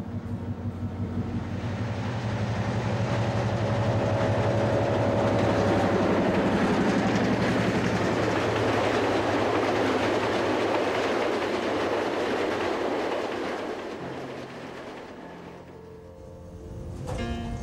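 A train climbs through steep mountain slopes and valleys in India, rolling steadily and slowly along the rails with a continuous rumbling roar and faint clattering, loud and close throughout, easing slightly near the end.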